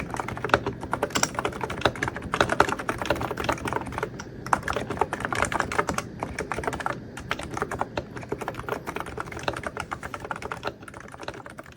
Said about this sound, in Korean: 일단 타건은 먼저 듣고 가시죠.